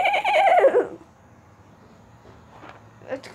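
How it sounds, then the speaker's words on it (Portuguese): A horse in the Minecraft video game gives one short, bright whinny, followed by near silence and a few faint soft noises. "vou colocar o som do cavalo pra vocês aqui."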